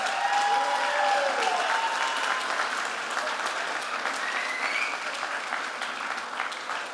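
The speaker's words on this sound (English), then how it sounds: "Please stand and give her a round of applause." A crowd at a political party's constituency meeting claps steadily to honor a standing guest, the dense applause mixing with faint background voices and tapering only slightly toward the end.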